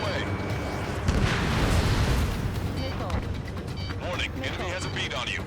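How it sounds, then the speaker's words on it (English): Missile launch in the Ace Combat 7 jet combat game: a broad roaring whoosh swells and rumbles for several seconds amid continuous engine noise, with radio chatter voices layered over it. "Missile away."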